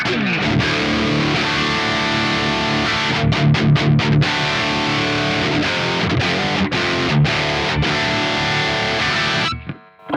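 Heavily distorted electric guitar chugs and rings out through a modeled Peavey 5150 heavy amp, dense, loud riffs with sharp palm-muted stops, then cuts off at the end.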